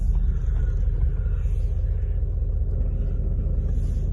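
Deleted, tuned 2019 Ford 6.7 Powerstroke diesel truck engine, a deep, loud, steady low rumble close by, with no talk over it.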